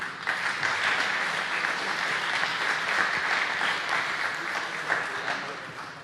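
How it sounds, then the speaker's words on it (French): An audience applauds volunteers at the opening of an electronic music festival in Caudry: steady, even clapping from many hands, fairly close and continuous throughout, with no break. "Et vous pouvez les applaudir."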